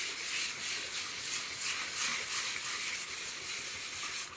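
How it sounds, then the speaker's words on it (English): Light sanding of a wooden surface with 800 grit sandpaper, a close, soft continuous rubbing hiss in short even back-and-forth strokes, heard alone. "I'm going to take some 800 grit sandpaper, and I'm just going to very lightly sand the surface"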